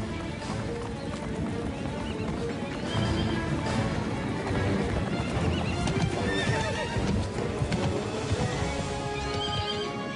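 Herd of horses galloping on open ground with neighing and whinnying, hoofbeats pounding continuously and loudly throughout with no voices.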